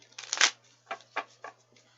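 Tarot cards are shuffled close by, a brisk riffling burst followed by a few shorter papery flicks against a low steady hum, with no talking.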